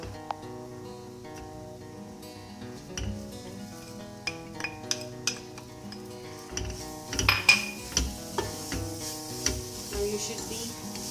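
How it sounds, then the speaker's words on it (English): Beetroot and semolina sizzle steadily in a pan while a utensil stirs and scrapes, with a few sharp clinks of metal against the pan. "Now we can add the beetroot to it."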